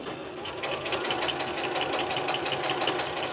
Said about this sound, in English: now I'm going to use the straight edge of this fabric to actually sew my seam